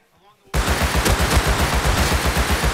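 Rapid automatic gunfire in the console game Rust on PS5 bursts in abruptly after a quiet moment, then keeps up a loud, dense, continuous rattle of shots close by.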